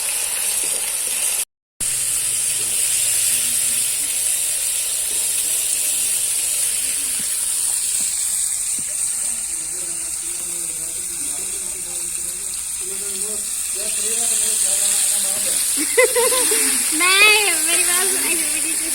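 Ginger garlic paste sizzles with onions in a frying pan in a Pakistani village kitchen, a steady bright hiss running throughout, with voices talking over it.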